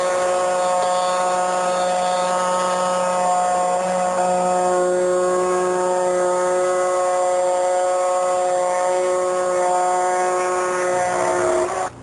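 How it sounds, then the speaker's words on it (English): A router fitted with an extension base routes waste out of a wooden tray using a CMT bowl and tray template system, giving a steady, loud, high-pitched whine that holds throughout and cuts off at the very end. "We're ready to route the rest of the waste out of this."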